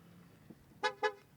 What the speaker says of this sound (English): it was horning because the ignition is on